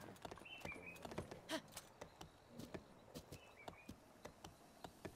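Horse hooves clip-clopping in the video game Breath of the Wild, a steady run of close, sharp hoof strikes with faint ambient insect noise and no talk.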